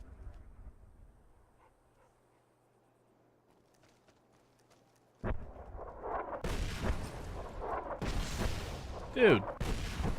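Gunfire in Fallout New Vegas starts after a quiet stretch, with sharp broadband bursts and impacts in the second half mixed with game noise, fairly loud and close.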